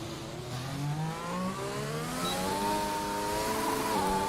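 Race car engine in a racing video game at a French Grand Prix round, revving hard with rising, shifting tones that climb through the gears, loud and close with no voices.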